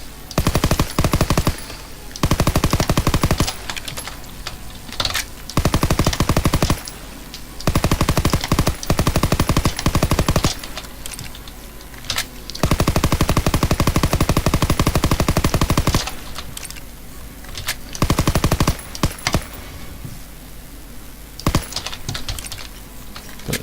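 Bursts of rapid automatic gunfire from a first-person shooter video game, loud and close, arriving in clusters of sustained volleys separated by short pauses, with no talking.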